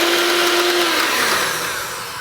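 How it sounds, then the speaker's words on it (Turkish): Egg yolks and mascarpone are being mixed for tiramisu, giving a loud, steady whirring drone that eases slightly lower in pitch partway through, with no talking. "Şimdi de bunu karıştırıyorum tamam mı? Sarıyla mascarpone."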